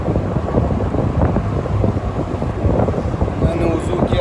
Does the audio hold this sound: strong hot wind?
yes